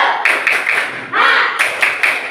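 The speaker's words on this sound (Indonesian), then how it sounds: "Semuanya tepuk semangat." A classroom of children does a rhythmic spirit clap, several short bursts of claps in a patterned beat, fairly close and loud, with a teacher leading.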